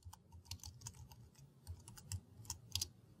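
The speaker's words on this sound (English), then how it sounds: "simply type in some text as you normally would" Keys on a computer keyboard tapped in an irregular quick run of distinct clicks, close and fairly quiet, with a few sharper presses toward the end.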